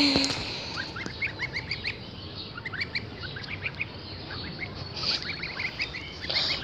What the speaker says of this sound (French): il y a les oies.